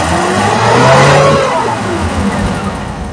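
A Suzuki Carry 1.0 with a corroded cylinder head revs up and holds a rough, loud engine note, easing off slightly, with someone speaking over it.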